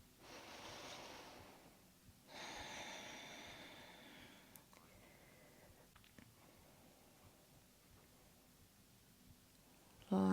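Slow, deep breathing during a yoga session: two long, soft breaths drawn in and let out, quiet and close, with no talking.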